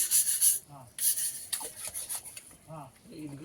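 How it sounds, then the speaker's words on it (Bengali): Old bricks being scrubbed clean by hand with water drawn from a bucket: a close, steady rasping rub in repeated strokes, with faint voices near the end. "ব্যস্ত হয়ে ইট ঘষা চলছে"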